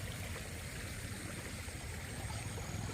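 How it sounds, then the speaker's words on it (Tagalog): Swollen water after rain rushes steadily past in a continuous broadband roar, close and unbroken for the whole stretch, with no voices on top. "Kaya medyo malakas yung tubig ngayon."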